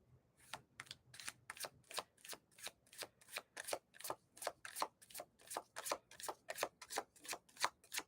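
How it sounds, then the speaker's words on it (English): Tarot cards being shuffled by hand in a quiet room, a rapid run of about twenty crisp riffling snaps in a steady rhythm, close and alone with no talk. "I'm shuffling these cards and they're just flying out."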